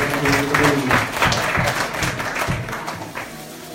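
A church congregation at a Christmas service claps together, loud and close at first, then thinning and fading toward the end.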